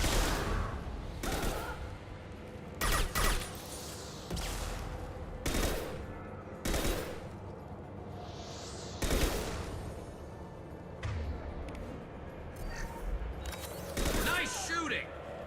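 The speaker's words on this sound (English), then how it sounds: "Nice shooting!" Rapid bursts of automatic gunfire from the Mass Effect 2 video game crackle out in repeated loud volleys separated by short pauses, with a voice talking between them.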